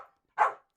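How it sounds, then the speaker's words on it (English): A house dog lets out a single sharp, close bark in a quiet room, preceded by the tail of a fainter earlier yelp. "I refuse to be barked at like this."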